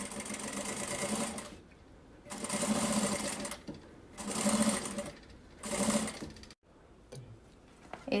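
A sewing machine runs a safety stitch along a zipper seam on a fabric toiletry bag, stitching in four loud, steady bursts with short pauses between, then stopping.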